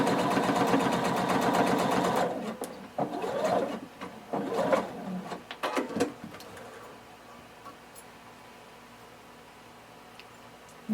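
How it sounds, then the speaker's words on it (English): A sewing machine stitching a 5/8-inch seam on pants fabric, running fast and steadily at first, then slowing into a few short, uneven bursts of stitching before stopping, leaving quiet room tone. "you're going to sew 5/8 of an inch seam allowance"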